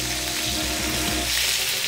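Tomatoes sear in olive oil in a pan for a vegan ragu, giving a loud, steady, close sizzle that hisses throughout without a pause.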